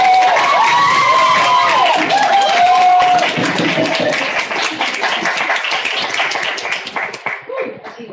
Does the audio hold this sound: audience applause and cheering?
yes